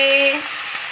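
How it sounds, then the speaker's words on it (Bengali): A vegetable dish cooks in a pan, giving a short burst of steady close sizzling hiss with a faint tonal hum fading early. "দেখো বন্ধুরা রান্না হচ্ছে"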